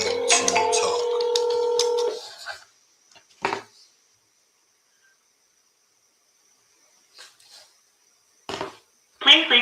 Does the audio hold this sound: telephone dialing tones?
yes